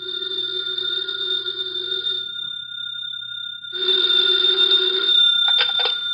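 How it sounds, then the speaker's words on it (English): Telephone ringing in a radio drama: two bursts of an electric bell ring separated by a short pause, clear and fairly near, with a steady tone between them. "the phone in the Lawrence house on Berry Hill Lane began to jingle"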